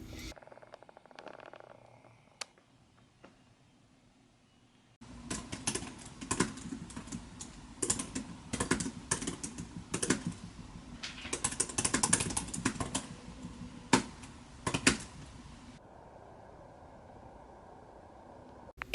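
Typing runs steadily on a computer keyboard while a romantasy novel is being written, a dense, close patter of keystrokes with irregular bursts, preceded by a few scattered taps and quiet background noise.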